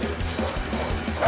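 A video game dog in Far Cry 6 gives short yips and whimpering barks, repeated in a loose rhythm at moderate level over a steady game backdrop.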